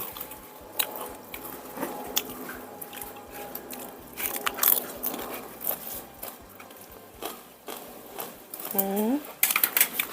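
Spicy pounded fresh shrimp salad being eaten, with repeated crunchy bites and chewing close by, set against busy background noise and some clatter.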